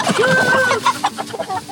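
Chickens on a farm cluck loudly and close as they are released, a quick run of squawks and clucks with a drawn-out call at the start.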